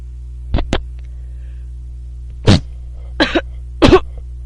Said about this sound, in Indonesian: Aku bersin ditahan malahan jadinya batuk.